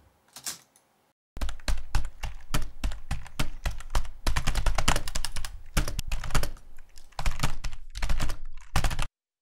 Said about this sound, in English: the last sample here is someone hitting their keyboard